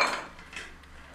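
A frying pan clanks onto a stovetop with a sharp metallic knock, followed by softer clinks as oil is poured in while cooking beef fry; brief, close and fairly quiet, with no talking.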